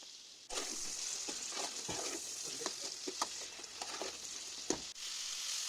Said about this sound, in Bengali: এরপর চিংড়ি মাছটা হালকা ভাজা ভাজা হয়ে আসবে